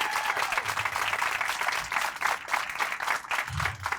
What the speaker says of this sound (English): can we give a round of applause for this?